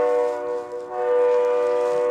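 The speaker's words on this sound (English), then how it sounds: "train's coming" A passing train sounds its horn in a sustained, chord-like blast that swells and holds at moderate distance, with no talking.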